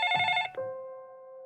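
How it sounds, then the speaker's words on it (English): A telephone bell rings in a single short burst, clear and alone, then fades out with a lingering tone. "the phone rang around 12:30 a.m."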